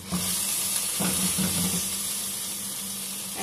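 Adana kebabs shallow frying in a little oil give a steady, close sizzle and hiss throughout, with soft stirring bumps early on and no talking.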